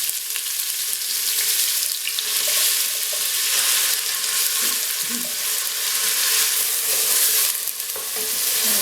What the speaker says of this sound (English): Just need to saute and brown the onions for a good few minutes